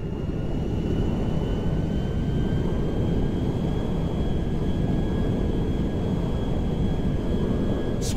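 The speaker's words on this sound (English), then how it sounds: "Meriwether cargo jet to ground control, please be advised of a change of destination. We are now landing in Mackenzie Field!" A cargo jet comes in to land at an airfield in the game GTA V, giving a loud, continuous engine roar that holds steady throughout, with no pauses and no speech.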